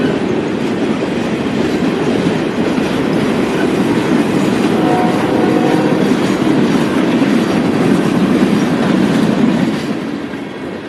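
A CSX eastbound freight train rolls past slowly, producing a loud, continuous rumble and a faint squeal of wheels that fades slightly toward the end.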